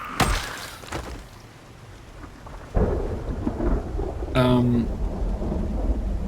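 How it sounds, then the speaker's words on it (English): Thunder rumbles and cracks in the Project Zomboid video game over steady rain, with a sharp near crack at the start and a second heavy rolling boom partway through, the rain hiss continuing throughout. "count the seconds between lightning and thunder to know how far away the lightning struck"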